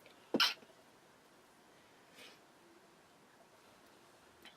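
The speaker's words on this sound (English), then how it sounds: "Sorry, I have to sneeze." A single sharp sneeze bursts out close by, followed by quiet breathing in a hushed room.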